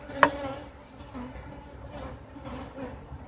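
Bees buzz around a horizontal Langstroth hive outdoors as it is put back together, a faint, steady hum with a soft knock near the start and a quiet voice in the background.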